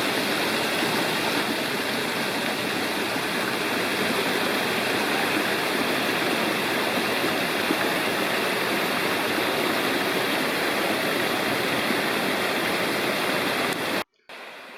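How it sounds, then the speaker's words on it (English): A high cascading series of waterfalls on Lost Cove Creek in a wilderness area roars as a steady, dense wash of rushing water, loud and continuous, cut off abruptly near the end. "Just off to the left here is a really high cascading series of waterfalls"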